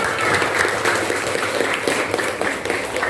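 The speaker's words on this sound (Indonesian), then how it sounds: "tepuk tangan untuk kalian semua" Students clapping together in a classroom, a brief steady round of applause at close range with no pauses.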